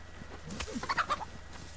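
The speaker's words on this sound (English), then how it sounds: "Chicken." A chicken in DayZ gives a quick run of clucks, fairly faint, over steady outdoor game ambience.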